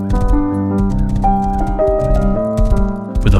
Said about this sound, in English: With a horse by my side